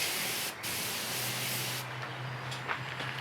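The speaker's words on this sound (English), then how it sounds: "I have some of this air spray, air duster. It's just pure air." A steady hiss of compressed air from an air duster sprays onto a hot raku-glazed pit-fired vase for almost two seconds, then cuts off, followed by quieter short bursts and faint crackling of the glaze.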